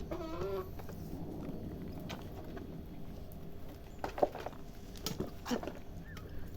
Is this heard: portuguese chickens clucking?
yes